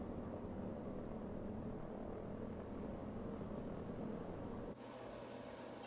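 A small propeller airplane taxis in a flight simulator game, its engine giving a steady droning hum that drops suddenly near the end, with no talking.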